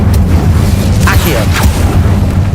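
A fire spell cast in the Hogwarts Legacy video game whooshes and booms, loud and roaring, over a constant low rumble of game ambience, with a couple of brief flaring bursts.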